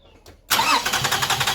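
Toyota Highlander engine cranking with a loud, steady rhythmic churn that begins abruptly after a quiet moment, repeating pulses as the starter turns the engine over without it catching.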